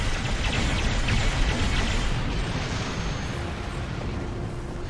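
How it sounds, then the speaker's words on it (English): A starship explodes in Star Trek Online, a loud, dense rumbling blast that roars continuously and slowly tapers, with no talk over it. "Note to oneself, don't get close to ships before exploding."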